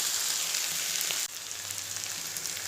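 Tomatoes hit a hot pan of eggplant and drumstick curry, sizzling in a steady, close hiss that briefly dips then continues a touch quieter.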